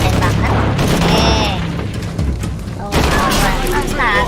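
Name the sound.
gunfire in the video game Shadow of the Tomb Raider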